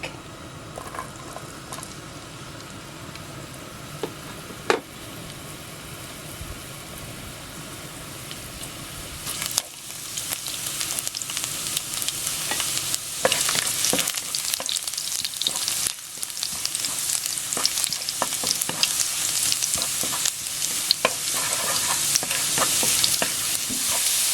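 Garlic sautéing in a tablespoon of hot cooking oil, starting as a soft low hiss that swells into a dense, crackling sizzle with stirring scrapes, close and steady.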